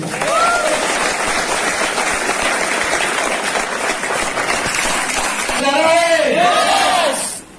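Applause from a training seminar audience, sustained loud clapping with a cheer or whoop rising near the end before it cuts off abruptly.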